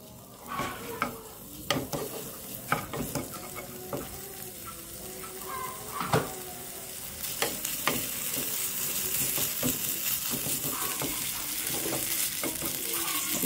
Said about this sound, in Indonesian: Jadi saya menggunakan minyak VCO setengah sendok teh untuk menumis bumbu halusnya. Ini bumbu halusnya kita akan tumis.